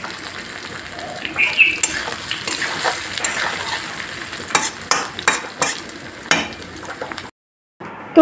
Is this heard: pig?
no